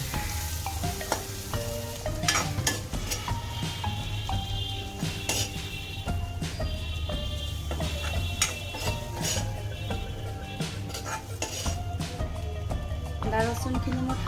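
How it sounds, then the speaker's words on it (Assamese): Spice masala sizzles and crackles as it is fried and stirred in a pan, with steady frying hiss and occasional scraping clinks under tonal background music. "মোৰ এতিয়া মছলাখিনি ভজা হৈ গ'ল।"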